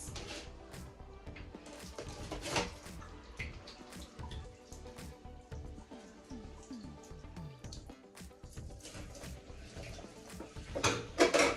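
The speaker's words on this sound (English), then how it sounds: "I'm going to get some water on this." Tap water runs and drips over already-stripped red herring in a kitchen, a steady splashing and trickling stream with scattered clinks of dishes, close and moderately loud, alone without talk.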